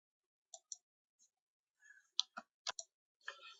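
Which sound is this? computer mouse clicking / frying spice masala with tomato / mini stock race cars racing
computer mouse clicking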